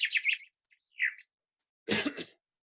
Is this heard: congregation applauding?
no